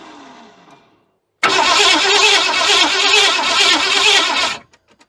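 A 1981 Ford F100 with a 351 Windsor V8, left sitting for years and running off gas poured into the carburetor, catches and roars loudly for about three seconds with an uneven, lumpy rumble before cutting out abruptly, followed by faint clicks.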